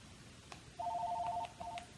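A phone ringer sounds at a table in a home, a steady electronic two-tone trill lasting under a second, then a shorter burst after a brief gap, with faint room noise beneath.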